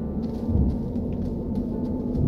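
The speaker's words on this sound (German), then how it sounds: "Wieder Stürme in der Nähe." A stormy rumble in the space exploration game Astroneer, a continuous low, dense roar with faint scattered crackles over it, steady and fairly loud with no talking.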